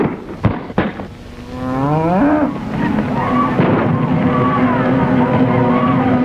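Cattle in a herd low and moo in long, overlapping calls that sweep up and hold, loud and close, one after another over a steady outdoor background with no talk.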